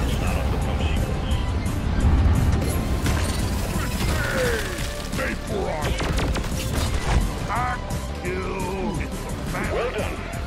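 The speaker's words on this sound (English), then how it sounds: "Cargo rocket is returning to orbit." Rocket launch in the mining game Deep Rock Galactic, a cargo rocket lifting off toward orbit amid dense game noise: a loud, continuous roaring rumble layered with mechanical clanks, blasts and crackling effects lasting throughout.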